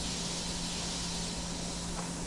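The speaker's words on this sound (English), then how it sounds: "Put that deep down in the hole and spray it all over what's in there." Spray hissing into a hole in the Resident Evil Remake video game, a steady, unbroken hiss that holds at an even level throughout.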